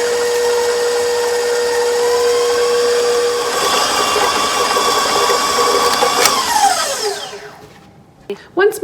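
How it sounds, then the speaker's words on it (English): An electric kitchen mixer creams chocolate chip cookie ingredients, a steady whirring motor hum that holds for several seconds, then winds down and stops, followed by a couple of clicks. "And then I am going to turn the mixer on and mix it until creamy"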